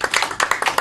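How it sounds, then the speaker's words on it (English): A studio audience claps on cue during a hypnosis stage show, with short irregular bursts of hand claps close by rather than a sustained ovation. "Can you give them a round of applause to come to the front?"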